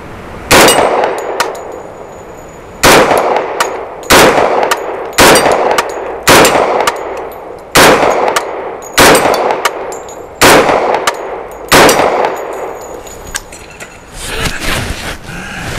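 Nine-round string of Extar EP45 pistol shots firing Norma 230 grain ball ammo, loud sharp reports at an irregular pace of roughly one per second or two, each followed by a short ringing tail, with no talk.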